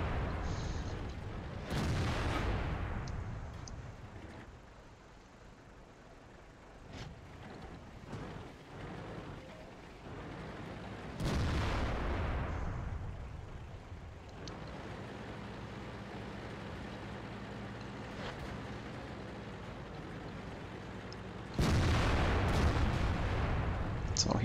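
Tank gun blasts in a World of Tanks battle: a few heavy booming shots spaced several seconds apart, each with a rumbling tail over a steady engine drone.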